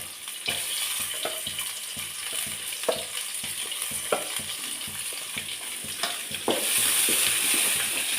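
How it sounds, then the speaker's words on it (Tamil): Chopped onions fry in hot oil in a pan while making Gobi Manchurian, a constant close sizzle broken by repeated scraping stirs, with the sizzle growing louder near the end. "இதுலேயே நம்ம அரிஞ்சு வச்சிருந்த வெங்காயத்தையும் போட்டுப்போம்."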